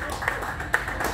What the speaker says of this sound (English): what about a round of applause, please, for Roger James?